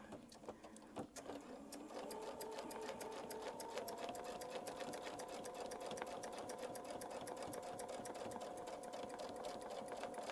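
A sewing machine stitches steadily around a bell curve quilting template, its rapid needle clatter running continuously and close for the whole stretch with no talking.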